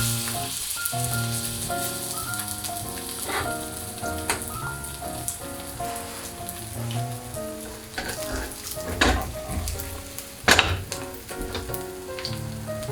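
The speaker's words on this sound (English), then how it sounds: "Heat up about 3 to 4 tablespoons of vegetable oil in a pan on high heat. Scoop in your batter." Korean pancake batter sizzles in 3 to 4 tablespoons of hot vegetable oil in a pan on high heat, a steady close crackle with sharper pops and spatters, while music plays beneath.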